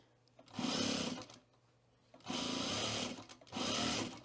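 A sewing machine stitches a cat-eared hood in three bursts of fast, buzzing motor whir, each about a second long and close up, separated by quiet pauses.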